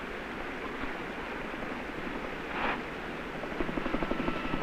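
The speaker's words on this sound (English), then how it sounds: "There's the helicopter." A helicopter passes above a wildfire zone, a steady broad rotor roar with faint beating thumps growing toward the end, heard from a distance and unaccompanied by speech.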